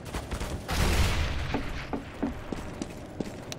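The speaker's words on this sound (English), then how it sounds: "Grenade out!" A grenade blast in a tactical shooter game lands as a heavy low boom, trailing into scattered pops and distant gunfire cracks.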